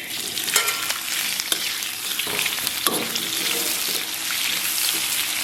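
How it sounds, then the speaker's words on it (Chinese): Sliced fatty cured pork (larou) sizzles and spits in hot oil in a wok, a steady close crackling hiss with stirring scrapes and no talk. "咱把切好的腊肉下锅"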